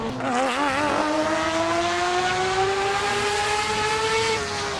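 A racing car engine in a driving simulator video game revs high and steady, its pitch wavering briefly then climbing smoothly, loud and close with no talking.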